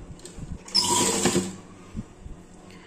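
A sewing machine stitches fabric for a small summer dress for a Laddu Gopal doll, giving one short, quiet whirring burst amid soft handling clicks.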